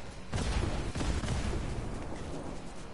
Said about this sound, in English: I just hear a bunch of explosions behind me.